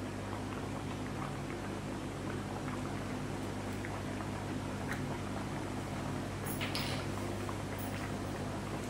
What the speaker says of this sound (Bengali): ফুট এসে গেছে